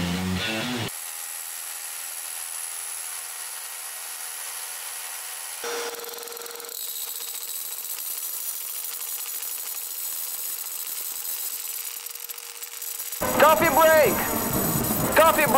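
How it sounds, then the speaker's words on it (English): A DeWALT drill with a dust extraction attachment, hooked to a corded shop vac, gives a steady whining motor drone that holds for many seconds, with someone talking briefly at the start and again at the end. "a pretty handy dust extraction for some serious drilling. In combination with a corded shop vac."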